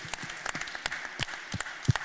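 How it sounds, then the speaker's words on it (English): Triathlon audience applauds first-time Ironman 70.3 racers in Croatia, a steady patter of many hands clapping at moderate distance that runs through the whole moment. "So yeah, a round of applause."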